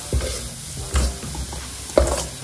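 Spice powder and sugar frying together in a pan for Mangalorean nevrio filling, stirred in three distinct scrapes roughly a second apart over a low, steady sizzle.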